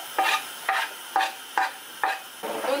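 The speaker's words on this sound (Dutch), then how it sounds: "And we give it a little mix." Spinach frying in a pan with fresh garlic and basil is stirred in five quick, evenly spaced scrapes and swishes over a soft background sizzle, close and clear with no talking.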